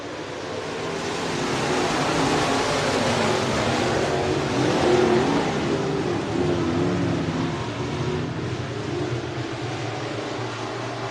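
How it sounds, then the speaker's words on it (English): Modified race cars roar together at the start of a heat race on a dirt raceway, a dense, steady engine drone that swells slightly midway and holds loud throughout with no talk. "7 cars about to do battle here for our one and only heat race for our Alta Implement Modifieds."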